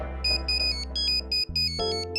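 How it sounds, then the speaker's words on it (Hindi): A mobile phone ringtone plays indoors, a bright electronic melody of repeating beeping notes over a steady low tone, loud and alone with no talking. "फोन उठाना जरूरी है।"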